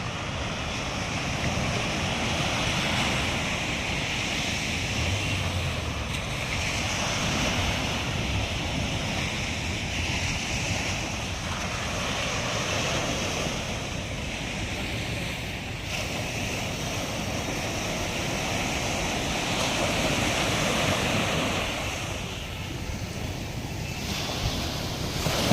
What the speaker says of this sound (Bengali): সমুদ্রটা একটু দেখুন।